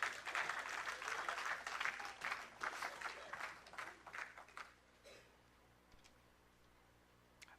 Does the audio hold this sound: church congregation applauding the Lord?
yes